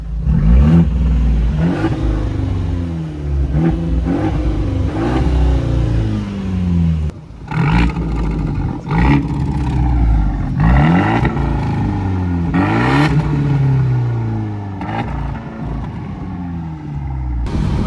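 A friend's new car engine revving hard on a test drive through the Swiss mountains, repeated loud rising and falling bursts of acceleration, close and dominant for about eighteen seconds with no talking.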